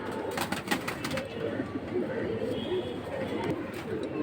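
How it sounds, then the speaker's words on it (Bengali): Fancy pigeons coo in a sales loft holding silver, aluminium, Tota hammer and military breeds. Soft, low coos rise and fall, half buried under a steady rustling wash of background noise and fluttering. "আসার আগে এই চমৎকার কবুতরগুলো নিতে পারবেন।"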